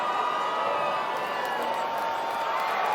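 A big crowd in an arena in Steins;Gate Elite roars in a loud, sustained cheer that holds steady without breaks.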